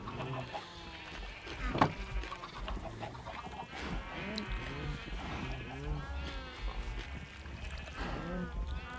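Sheep bleat repeatedly in the Minecraft video game amid a busy farm-like mix of other animal calls, the wavering bleats coming in short bursts while a person talks over them.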